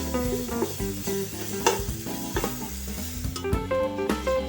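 Ginger garlic paste sautés with browned onions in a pan for biryani, a dense close sizzle with stirring scrapes and clinks running throughout.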